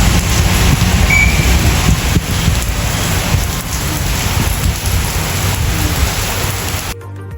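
Steady rain falling in Kerala, a dense, continuous wash of drops on surfaces close by, loud and unbroken for several seconds before cutting off abruptly near the end.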